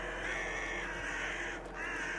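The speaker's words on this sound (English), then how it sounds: "The crows are out in force." Crows caw steadily in a graveyard, a continuous harsh chorus of overlapping calls over a constant outdoor background, fairly loud and near.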